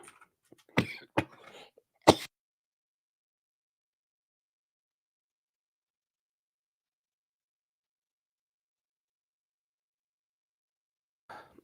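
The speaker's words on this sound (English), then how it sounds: "I don't know what the hell I am coughing on, but not good" A person coughs in a short harsh fit of several close, loud bursts during the first two seconds, then goes quiet, with a faint vocal sound near the end.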